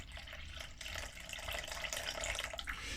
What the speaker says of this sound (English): And now we need to add in the water.